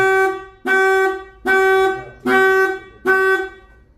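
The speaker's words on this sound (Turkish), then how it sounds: "Kitlemede kornamız. Açmada da kornamız arkadaşlar." Five short car horn honks from a Renault Megane 4 being locked, in a steady, evenly spaced series, loud and close, with brief silences between blasts.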